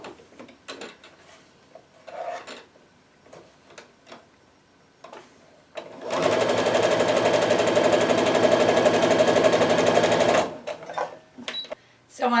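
Sewing machine stitching a kaleidoscope quilt block, running loudly and continuously for about four seconds midway, after scattered clicks and handling noises, with brief handling sounds afterward.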